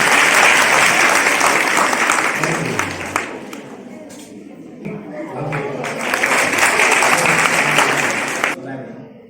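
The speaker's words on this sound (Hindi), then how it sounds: "बहुत बढ़िया, जोरदार ताली दीजिए।" An audience applauds heartily, with dense, sustained clapping that dips briefly midway, swells again and then cuts off, while voices murmur underneath.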